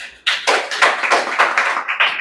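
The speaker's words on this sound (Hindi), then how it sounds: "ठीक है, ताली बजा दीजिए।" Students clapping for a prize winner at a 10th-class quiz competition: applause bursts in suddenly and keeps a fairly even, pulsing rhythm of many hands, close and lively.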